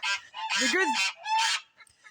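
Ducks near a homestead coop on a snowy morning give several loud, nasal quacks in quick succession, close by, followed by a quieter call.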